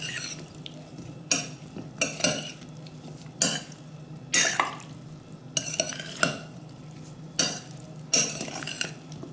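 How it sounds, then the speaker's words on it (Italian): Potato salad with olives, cherry tomatoes, salt, chives and extra virgin olive oil being gently stirred in a bowl, a series of soft scraping, clinking strokes at a slow, steady rhythm, close and quiet. "Mescolo bene bene delicatamente."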